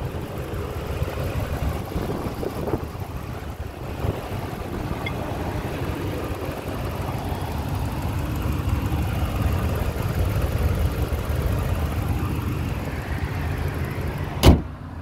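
A 2012 Ram 1500 pickup with a 5.7-litre Hemi V8 idling, a steady low rumble heard from close by with no talk, ending in a single sharp click or knock.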